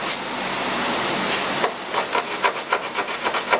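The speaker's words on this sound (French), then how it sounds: "Donc l'écoinage, ça se fait avec une écoineuse. C'est une râpe" Hand rasp scraping metal while shaping the body panel for a replacement right rear wing on an MGB GT: a steady scraping rush, then a run of rhythmic strokes close by, with no voices.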